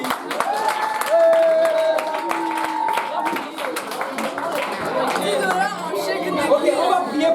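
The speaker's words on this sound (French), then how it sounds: "On va applaudir pour le frère David." An audience at a church gathering claps for a brother, a scattered burst of applause mixed with crowd chatter and voices talking over it.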